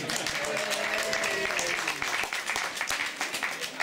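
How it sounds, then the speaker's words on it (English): Applause for an event organiser at a parliamentary reception, moderate clapping from a room crowd, somewhat distant, with a voice speaking over the start before it fades. "giving a huge cheer of applause to Ibrahim"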